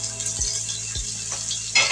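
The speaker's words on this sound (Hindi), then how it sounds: "अब इसको भी अच्छी तरह प्याजों के साथ फ्राई करेंगे ताकि अदरक लहसुन का जो कच्चापन है वो खत्म हो जाए।" Ginger-garlic paste fries with browned onions in a pan for matar pulao. A steady hiss of sizzling runs throughout, broken by a few stirring scrapes, with a louder burst of frying at the end.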